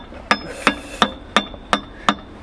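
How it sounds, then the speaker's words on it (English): A hammer strikes a metal filter cover on a CAT 977H loader seven times in an even rhythm, each sharp, ringing blow close and loud with a short decay. "I have the CAT number 1728 filter cover hammer."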